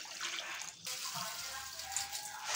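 Matar dal, split peas, being washed in water: soft sloshing and trickling water, fairly faint, with a brief pause and light splashes.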